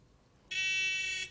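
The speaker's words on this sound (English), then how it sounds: "The electricity will run out of this end of the battery, along the wire, into the buzzer, making it buzz" A small electric buzzer in a simple battery-and-wire circuit sounds one steady, loud, harsh buzz lasting under a second, starting abruptly after a quiet moment and cutting off cleanly.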